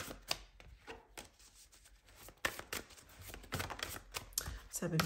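A deck of small Lenormand cards being cut and handled: a series of soft, quick papery slaps and riffles, close and fairly quiet, with a voice talking throughout.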